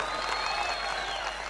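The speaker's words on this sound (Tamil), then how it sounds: "ஆண்களும் சேர்ந்து கைத்தட்டலாம்" Audience at a Tamil political speech applauds in a brief burst of mixed clapping, a short dense wash of hands with a crowd murmur beneath.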